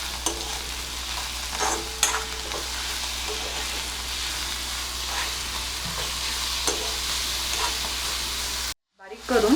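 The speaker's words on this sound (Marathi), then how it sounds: "हे सगळं नीट मिक्स करून घ्यायचं" Bharangi greens stirred in a sizzling pan, a spoon scraping in irregular strokes over a constant frying hiss, cutting off abruptly near the end.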